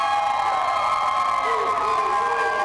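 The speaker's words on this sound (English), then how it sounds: "very rambunctious crowd out here tonight" A rambunctious crowd at the Siegel Center on Final Four night, a dense, continuous wall of cheering and shouting heard at a distance.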